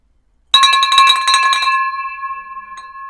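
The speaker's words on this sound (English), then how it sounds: "can we ring the bell for that guy?" A single bell struck once in celebration rings out loud and clear, its bright metallic tone holding and slowly fading over a couple of seconds with no talk over it.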